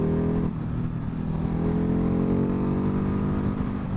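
Engine of a 2019 Ducati Hypermotard motorcycle while riding, a loud steady drone that climbs in pitch as the throttle opens, heard close with wind rush.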